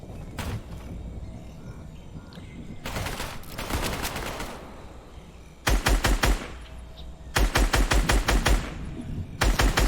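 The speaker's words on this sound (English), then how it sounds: "he keeps shooting at me even though I get a safer edit here" Gunfire in the Fortnite video game, with repeated rapid bursts of shots at moderate loudness separated by short pauses and quieter background game noise.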